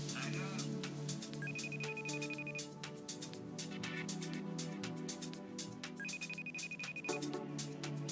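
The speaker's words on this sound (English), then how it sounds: "He's calling me on the other phone." A phone rings with an incoming call, a loud melodic ringtone repeating its tune continuously and filling the space close by, with no pause between rings.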